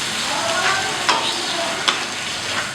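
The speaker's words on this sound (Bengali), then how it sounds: "স্বাদ মতো নুন, মশলাটা একটু ভেজে নিচ্ছি।" Spices sizzle in hot oil for an ol kachu mung dal, a steady bright frying hiss broken by a couple of spoon scrapes as they are stirred.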